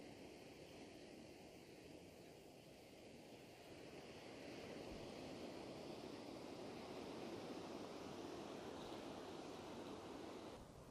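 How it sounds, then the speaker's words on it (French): Ocean waves on a shore at low tide: a steady broadband wash of surf, distant and fairly faint, swelling slightly partway through with no talking. "Ah, la marée est basse."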